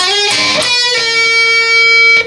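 Electric guitar playing the riff, slides and sustained notes ringing out loud and alone for a couple of seconds.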